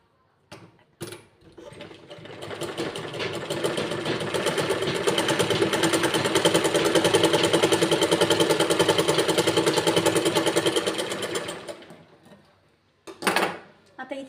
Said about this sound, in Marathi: फोल्ड केल्यानंतर याच्यावर परत एक शिलाई टाकून घ्यायची